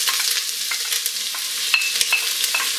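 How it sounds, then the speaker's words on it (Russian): Vegetables frying in sunflower oil inside a heated Redmond multicooker bowl, a loud, dense, continuous sizzle with crackling pops and a few stirring scrapes, heard up close with no voices. "И обжариваю не сильно, так слегка до золотистого цвета."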